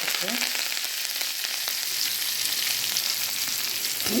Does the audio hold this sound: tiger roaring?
no